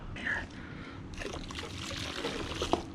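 Water runs and trickles over motorcycle front brake parts being rinsed clean, a steady sloshing splash close by with a few sharper splatters near the end.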